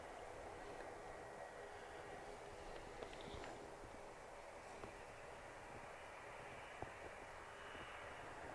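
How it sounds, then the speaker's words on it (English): Eurowings Airbus A321 arriving at Manchester Airport from Dusseldorf, heard as a steady, fairly distant jet roar with broadband hiss that holds evenly throughout, no voices over it. "It's Eurowings coming in from Dusseldorf, Airbus"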